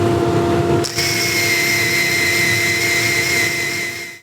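A wooden tray spins on a wood lathe while its handle and side profile are sanded, giving a loud, steady whirring whine that shifts in tone about a second in and then cuts off abruptly at the end.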